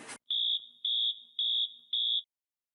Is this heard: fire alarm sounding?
yes